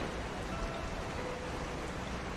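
Heavy rain falls steadily at night, a dense, even hiss of water on surfaces that stays constant and fairly close, with no voices.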